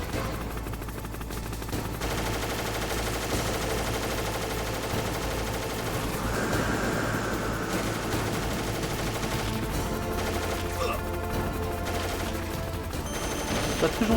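Gunshots in a video game crackle as a steady volley of mixed firing over layered game sound and music, sustained throughout with brief swells.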